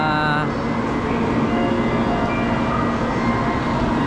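A Shinkansen bullet train at a station in Japan sends out a loud, continuous rumble and rushing roar, with a brief high tone at the start fading into steady broadband noise.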